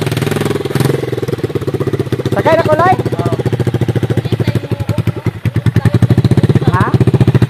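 A motorcycle engine runs steadily and loudly with a fast, even pulse, while people talk over it at close range.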